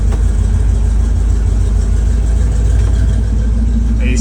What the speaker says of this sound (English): if you want to start the truck up